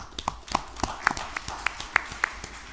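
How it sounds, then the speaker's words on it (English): A handful of people clap at a city council meeting, producing sparse, faint, individual claps in a loose rhythm over a quiet room. "So round of applause to him as well."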